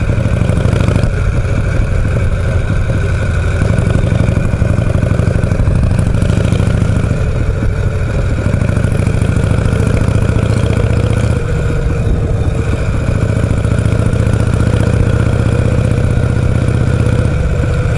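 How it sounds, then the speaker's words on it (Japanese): Engines rumble loudly and steadily throughout, with motorcycles idling and revving nearby and the drone rising and falling slightly. "今日バイク多いよ、"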